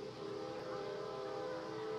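Train passing during the totality of the 2017 solar eclipse, a sustained tonal horn-like drone over a steady low rumble, continuous and fairly distant, with no talk.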